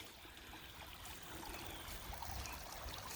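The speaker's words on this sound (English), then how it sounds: "Okay, here's our stream." A forest stream flows in a steady, faint rushing trickle, continuous and somewhat distant, with no voices over it.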